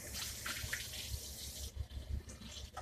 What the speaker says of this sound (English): Okay, let me wash my hands.